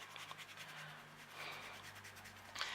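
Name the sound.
eraser rubbing out pencil lines on card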